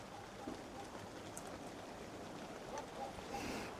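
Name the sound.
rain falling outdoors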